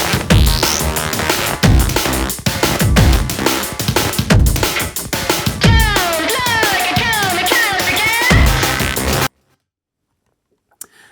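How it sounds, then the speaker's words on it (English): An electronic punk track with deliberately thin low end plays loud and dense, with driving beats and bright, chopped synth or guitar lines, then cuts to near silence near the end. "It's supposed to be some kind of electronic punk, so it's not supposed to have any deep low end."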